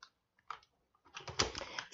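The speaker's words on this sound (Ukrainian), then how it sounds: "резервуари встановлюються до характерного клацання" A water reservoir is pushed into a Thomas Aqua cordless floor cleaner, making a few faint, separate plastic clicks followed by a brief, denser burst of clicking as it snaps into place.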